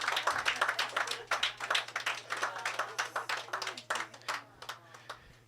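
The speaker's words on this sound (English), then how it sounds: "show their appreciation to Veronica with a round of applause." A roomful of people at an annual celebration gives a round of applause, with dense, close, fairly loud clapping that continues steadily, over a low steady hum.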